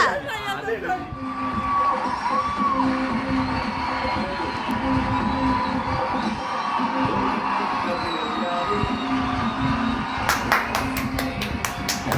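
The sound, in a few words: audience applause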